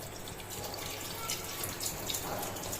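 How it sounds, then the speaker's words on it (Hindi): About a liter of water poured into a pot of meat before it is boiled on a stove: a soft, steady splashing pour, close but fairly quiet, with light dripping and background noise. "1 लीटर पानी जो है वो अम्मी जी ने डाल दिया अंदर"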